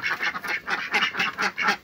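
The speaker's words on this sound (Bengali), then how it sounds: "আমার হাঁসগুলো ডাকাডাকি শুরু করে দিয়েছে" Several village farm ducks quack at dawn before heading to the pond, giving repeated loud, raspy calls in a steady rhythm of about eight bursts that come close together, with no talk.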